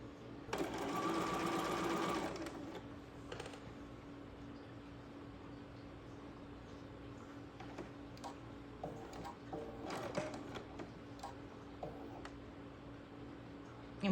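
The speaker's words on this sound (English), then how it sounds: "now I'm going to take these to the machine and I'm going to sew them" Sewing machine stitching fabric pieces for a sawtooth star quilt block, a steady, fairly loud whirring run of about two seconds up close, followed by quiet handling sounds and faint ticks.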